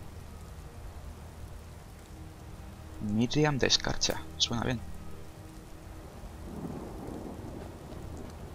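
Rain and rumbling thunder in the Skyrim video game, a steady wash of rainfall with a low thunder swell near the end, while someone speaks briefly in the middle.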